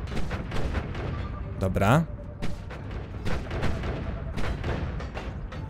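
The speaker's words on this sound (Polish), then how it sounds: "Pociski natywne. Czyli pociski stworzone przez grę." Projectile shots and impacts from the video game Noita crackle and thump in bursts under continuous talk from a player, with a rising zapping effect partway through.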